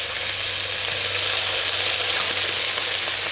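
Steady, loud sizzling and frying as Chinese cooking wine hits a hot pan of leftover chicken fried rice, a continuous hiss close up with no talking.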